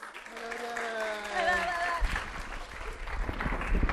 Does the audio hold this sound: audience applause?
yes